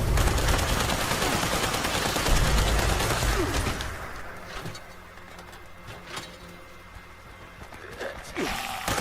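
Legacy weapon firing in the video game Fallout 76: rapid, dense gunfire for the first few seconds that then drops away to scattered single shots over quieter ambience, with a voice talking in the background.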